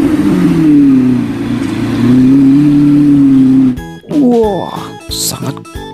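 An orange toy Lamborghini car gives out a loud, steady electronic engine drone for several seconds. It then stops abruptly and a person speaks over scattered toy noises.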